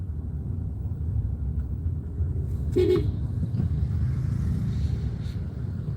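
Road traffic in Da Nang, Vietnam, heard from inside a car: a steady low rumble throughout, with a short car horn toot sounding just before the midpoint. Nobody speaks.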